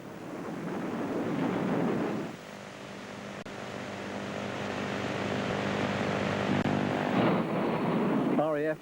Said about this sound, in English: RAF Jaguar attack fighters back safe from a dawn sortie as the relentless Allied air assaults continue. One by one they land